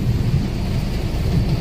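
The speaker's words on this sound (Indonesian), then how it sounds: "Tapi ini deras banget, hujan petir." Heavy rain from a thunderstorm pounds down during an afternoon wait for an airport bus, a dense, steady roar with a deep low rumble throughout.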